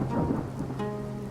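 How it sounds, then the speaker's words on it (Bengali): A heavy rainstorm sound effect for a horror story gives a low rumbling wash of rain with a faint thunder-like roll under a sustained tonal drone, steady and moderately quiet throughout. "গ্রীষ্মকাল চলছে, অথচ বাইরে তুমুল বৃষ্টি পড়ছে।"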